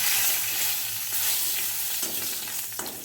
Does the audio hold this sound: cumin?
yes